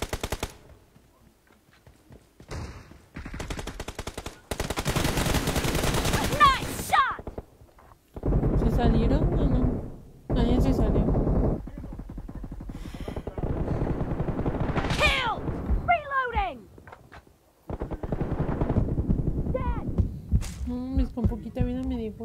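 Shotgun blasts ring out in PUBG Mobile as loud, repeated heavy bursts separated by short pauses, with a voice talking over parts of the firing.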